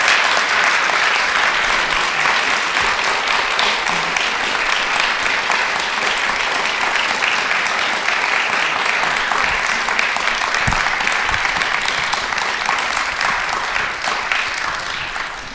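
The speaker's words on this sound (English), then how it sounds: "Can we have a good round of applause to our speaker tonight?" Sustained, dense round of audience applause for a speaker at an arts and lectures evening in Pittsburgh, loud and even for about fifteen seconds before tapering slightly at the end, with no talking over it.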